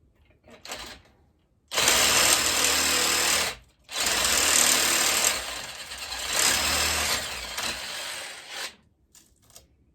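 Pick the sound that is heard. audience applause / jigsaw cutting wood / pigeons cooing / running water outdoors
jigsaw cutting wood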